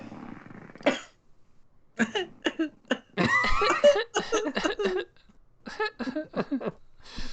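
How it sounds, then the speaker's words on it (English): A few sharp coughs at the start, followed by a run of short throat-clearing and coughing bursts, close to the microphone. "Hold on, I got a cough."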